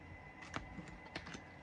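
A new, slightly sticky deck of tarot cards being shuffled by hand, giving two short bursts of riffling and sliding card noise close by over quiet room tone, with no talking.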